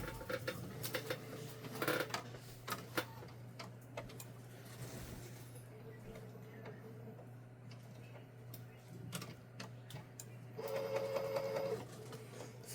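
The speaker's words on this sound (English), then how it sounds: "So I'm gonna go one more time. Head cleaning." An Epson EcoTank ET-16600 printer runs a print head cleaning cycle, giving faint intermittent mechanical whirs, clicks and ticks over a low steady hum, with a brief louder buzzing burst near the end.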